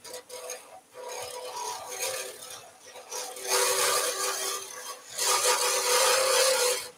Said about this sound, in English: So look, skew chisel now. I just want to clean up that finish